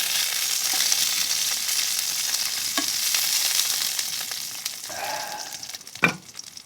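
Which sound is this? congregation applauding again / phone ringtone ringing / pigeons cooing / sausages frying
sausages frying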